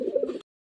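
A racer pigeon gives a single short, soft coo, close and clear, then falls silent.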